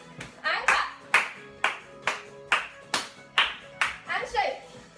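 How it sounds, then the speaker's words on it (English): Young children aged 2 to 5 in a creative dance class clap their hands in short bursts, about eight or nine groups of claps in a steady rhythm, close and fairly loud, with a teacher talking between them. "And clap."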